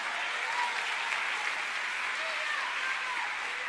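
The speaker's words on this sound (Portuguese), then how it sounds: "Dá para dar uma salva de palmas bem forte" A church congregation applauds during a sermon, a steady dense wash of many hands clapping at moderate distance, with no individual claps standing out.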